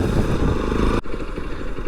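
A motorcycle rides along a muddy village path leading to a mango orchard after rain, its engine loud and close with a throbbing, uneven chug and clatter, dropping briefly midway before carrying on.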